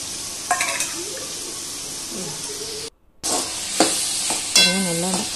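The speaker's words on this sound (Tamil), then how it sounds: "கல்லுப்பு போட்டு நல்லா வதக்கணுங்க." Garlic, shallots and tomatoes sautéing in a pan with rock salt, a steady sizzling hiss broken by stirring scrapes and a short pause, with a brief voice at the end.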